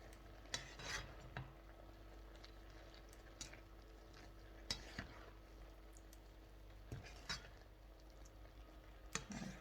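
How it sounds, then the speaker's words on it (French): Noodles with shrimp and vegetables are stirred in a pan, producing quiet scraping and light clinks of a utensil at irregular intervals over a faint background hum. "Voilà, par la suite, on va mélanger un tout petit peu."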